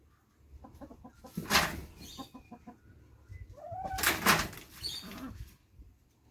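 Several short clucks from hens, then a rooster's loud call in two bursts, with scattered clucking and soft background noise between them.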